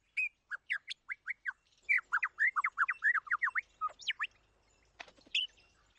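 A male bird sings a complex forest song, mimicking other birds such as the kookaburra, with rapid repeated chirps and squawks in quick bursts, loud and close, with no talk.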